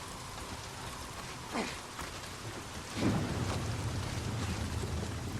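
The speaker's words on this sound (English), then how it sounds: "the rain just pulled in here now as quick as it did in the game" Steady rain pouring down with a constant hiss, broken by a couple of low rumbling swells.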